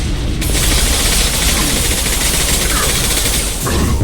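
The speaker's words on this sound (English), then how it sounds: "Shots are coming our way!" Sustained gunfire in the Mass Effect 2 video game, a dense continuous fusillade of rapid shots filling the whole stretch, loud and close with a brief break near the end.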